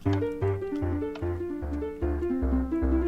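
Plucky Minecraft note blocks tap out a bouncy melody over deep bass notes, evenly paced and close, with no talking.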